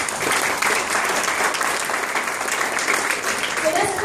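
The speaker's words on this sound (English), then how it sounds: "Can we give Nu Skin a big round of applause?" An audience at a business presentation gives Nu Skin a big round of applause, a loud sustained wash of many hands clapping at an even level.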